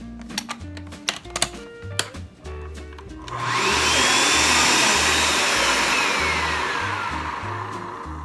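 A blender whirs loudly and steadily as it purées Caribbean-style green seasoning of herbs, garlic and olive oil, starting after a few scattered clicks and knocks.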